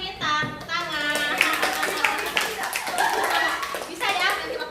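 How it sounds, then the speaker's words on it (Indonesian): Children in a group counseling session clap their hands together, a dense burst of applause mixed with young voices chattering and calling out throughout. "Tepuk tangan"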